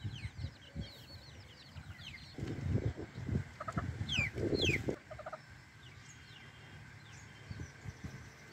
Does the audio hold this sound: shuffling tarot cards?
no